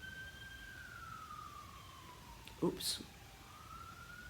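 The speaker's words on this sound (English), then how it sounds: "when you hear an ambulance going by," An ambulance siren passes outside, a faint wailing tone sweeping slowly downward beneath the room's ambience, with a brief clatter and a short spoken exclamation partway through.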